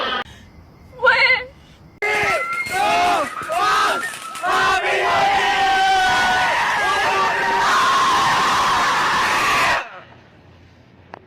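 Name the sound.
people shouting in classroom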